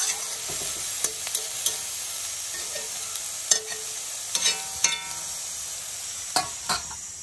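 Wild taro frying in a pan with spices and salt, a soft sizzle under intermittent stirring knocks and scrapes against the pan, close up and without speech.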